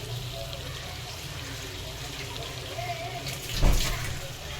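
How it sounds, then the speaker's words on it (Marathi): Water is poured into a cooking pan of black-masala brinjal and potato curry, a low steady splashing wash that swells into a brief louder gush near the end. "आणि आता आपण याच्यामध्ये थोडं पाणी टाकून घेणार आहोत."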